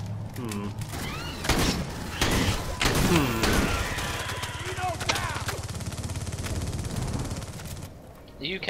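A smart gun fires in the video game Aliens: Colonial Marines. Loud, dense bursts of rapid automatic shots and thuds carry on almost without a break, with other game noise mixed in.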